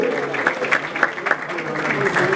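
An audience at an awards ceremony for diaspora and Kinshasa artists claps for the nominees, a steady patter of crowd applause that continues throughout the short stretch.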